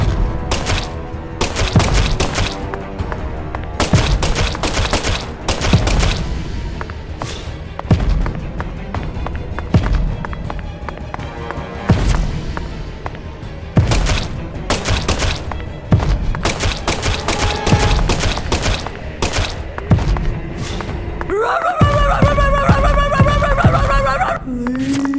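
Loud bursts of gunfire from the video game Deadly Premonition 2, repeated thuds and blasts over a dense game soundtrack, with a tonal musical stinger near the end.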